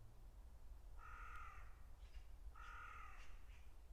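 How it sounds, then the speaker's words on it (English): A crow caws twice outdoors, each harsh call drawn out and spaced about a second and a half apart, fairly near and faint over a low background hum. "if that bird is saying what I think it's saying"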